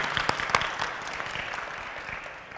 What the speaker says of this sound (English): can we give just a round of applause as our sign of thanks